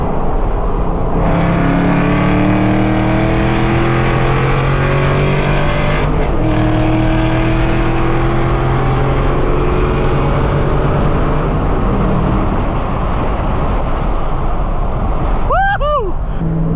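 A twin-turbo V8 Camaro ZL1 with automatic transmission and all-wheel drive revs loud and close from inside the cabin while driving, with the pitch climbing through several rising sweeps and dropping at each shift.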